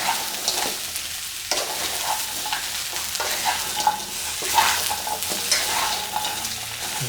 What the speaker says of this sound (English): Stir fry with that onion there.